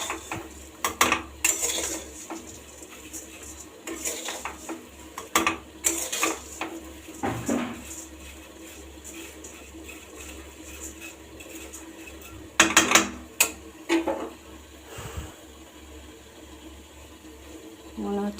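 Flattened rice frying in a pan, stirred with irregular metallic scrapes and clinks against the pan over a low sizzle, while someone talks quietly.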